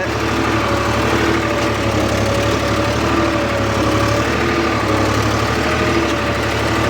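Tractor engine runs steadily and loudly while ploughing a field, with a small rotavator fitted after earlier work with a five-tine plough; a continuous low, rumbling drone with mechanical vibration throughout, no voices.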